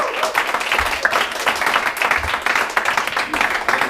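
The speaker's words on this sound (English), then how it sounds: "let's just give a big round of applause for AJ" Loud, close applause from a crowd at a drum clinic in Bristol, U.K., energetic clapping with a few cheers, continuous and dense throughout.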